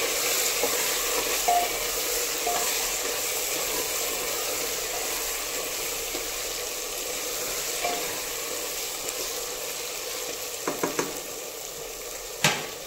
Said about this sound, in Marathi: आता व्यवस्थित हे मी मिक्स करून घेणार आहे हळद